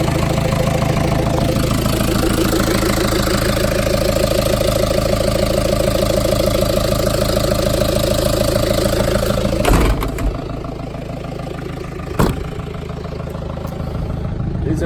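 The diesel engine of an old truck runs steadily after starting, a loud, close idle with a rough knocking rhythm, broken by a couple of brief clunks.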